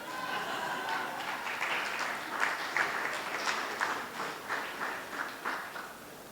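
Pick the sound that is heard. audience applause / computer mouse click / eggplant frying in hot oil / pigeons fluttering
audience applause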